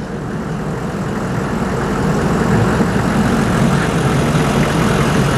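A ferry engine on Lake Champlain rumbles steadily with a low, rattling drone as the boat departs in winter, loud and continuous throughout with no talking.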